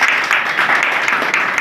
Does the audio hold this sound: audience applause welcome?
yes